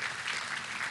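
Crowd applause at the groundbreaking ceremony for the Iğdır–Nakhchivan natural gas pipeline, a dense steady wash of clapping, brief and fairly loud.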